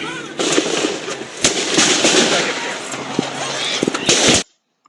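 Rapid cracks and bangs of gunfire or fireworks echo through a street block party, dense repeated pops over a steady background din with voices, ending abruptly.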